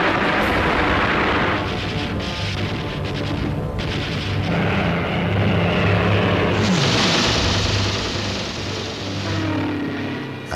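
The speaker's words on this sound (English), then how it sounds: "The sky was full of dogfighting aircraft as the German formations broke up" WWII Spitfire and Hurricane fighters dogfight over London amid German raiders, a continuous loud roar of propeller engines rising and falling, with occasional dull booms and no voices.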